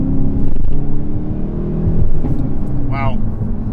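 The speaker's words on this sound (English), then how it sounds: "this exhaust sounds better, like stock." The exhaust of a 2020 Hyundai Veloster N rumbles up close, a deep, continuous drone from the engine while driving on back roads. A voice briefly cuts in partway through.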